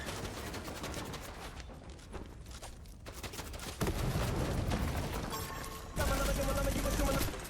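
Rapid bursts of gunfire from a video game fill the stretch, continuous and dense with louder volleys kicking in partway through and near the end, while players talk over it.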